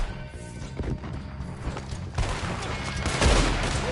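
Gunfire erupts around a camp in Red Dead Redemption 2, with rapid cracks and thuds building in intensity toward the end, including a heavy blast near the close.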